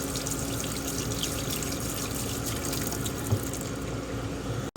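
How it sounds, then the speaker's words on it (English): A hand is rinsed under a running kitchen tap, with a steady close hiss of water splashing into a sink that cuts off abruptly at the end. "Rinse my hand off."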